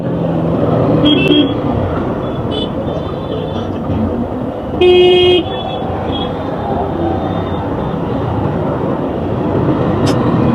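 Busy road traffic on the Girivalam route near the Kamakshi Amman temple, with a steady rumble of passing vehicles, a few short horn toots and one longer honk midway, alongside some faint background chatter.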